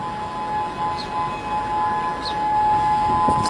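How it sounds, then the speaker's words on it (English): A steady warning siren for beachgoers in Hawaii drones as a sustained tone over a noisy outdoor background, moderately loud and unbroken, heard in a news broadcast. "Sirens warning beachgoers in Hawaii"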